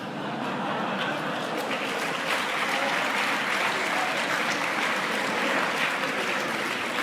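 An audience applauds steadily and loudly for the full stretch, dense continuous clapping from a crowd with no pauses.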